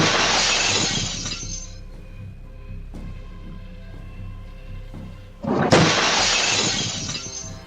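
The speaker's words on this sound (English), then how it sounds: "You can imagine the sudden sound of a window smashing is pretty scary." Loud bursts of shattering window glass as a wild turkey crashes into a house window, caught by a Ring doorbell camera, with a lingering tinkle of falling shards between two heavy smashes.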